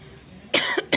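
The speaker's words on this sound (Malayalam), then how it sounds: "ഞാനൊന്ന് ചുമച്ചിട്ട് വരട്ടെ." A woman who is unwell with body aches coughs: one harsh, close cough, a brief catch of breath, then a second sharp cough a moment later, after a quiet stretch of faint room noise.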